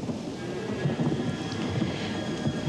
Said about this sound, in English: I think we're in for a bit of a storm.